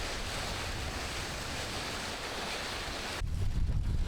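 Ocean surf breaks close by in a steady, loud roar of churning water, with a deeper rumbling swell surging in near the end; no voices.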